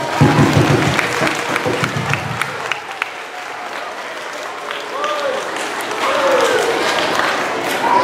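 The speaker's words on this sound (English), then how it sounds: "let's give another big round of applause" A live event audience applauds with scattered claps and cheering, and voices talk over the noise throughout while the clapping rises and falls.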